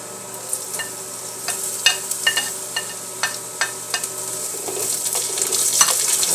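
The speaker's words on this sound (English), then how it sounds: "Saute the garlic" Garlic sautéing in oil in a pan over high heat, a steady soft sizzle with repeated scraping clicks of a spatula stirring at an uneven rhythm, close by with no talk.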